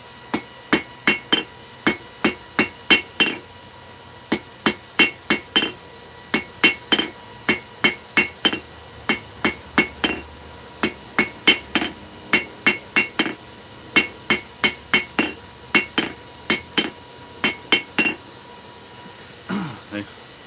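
A blacksmith's hammer drawing out a taper on hot metal, ringing in sharp, evenly spaced clanging blows delivered in quick bursts of several strikes with brief pauses between them.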